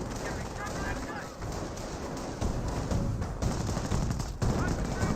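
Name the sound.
suppressive gunfire in video game Company of Heroes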